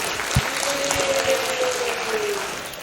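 An audience at a business talk session claps for a CEO guest, a brief, dense burst of applause from a roomful of people.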